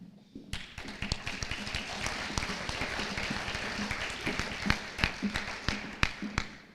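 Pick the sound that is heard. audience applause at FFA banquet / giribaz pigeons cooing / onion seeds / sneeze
audience applause at FFA banquet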